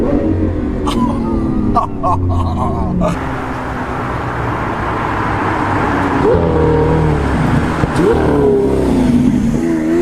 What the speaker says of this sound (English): And then when you downshift and you're slowing down